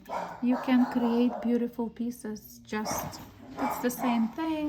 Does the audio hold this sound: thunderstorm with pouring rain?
no